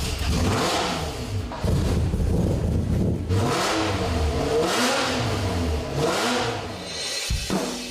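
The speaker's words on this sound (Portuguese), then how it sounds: "Eu ligo os motores." A car engine revs repeatedly, climbing and falling in pitch several times, loud and close with no talking.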